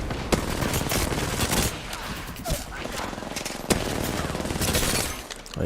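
Rapid bursts of automatic gunfire and sharp single shots crackle through a firefight in the video game Apex Legends, dense and loud with brief pauses between volleys.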